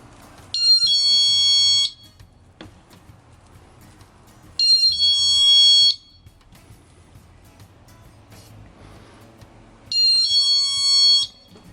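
A home security alarm sensor mounted on its main unit sounds in chime mode, giving three separate electronic beeping chimes of about a second and a half each, spaced a few seconds apart, clear and close with quiet pauses between.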